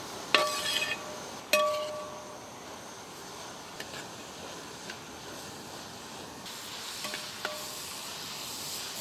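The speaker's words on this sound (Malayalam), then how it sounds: "ഒന്ന് ഇളക്കി കൊടുക്കണം." Sliced onions and slit green chillies stirred in a pan, with a couple of sharp utensil clinks against the pan near the start and a faint, steady sizzle underneath, quiet throughout.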